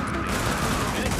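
Gunfire in the video game The Division, a dense burst of rapid shots forming a continuous loud crackle for about a second.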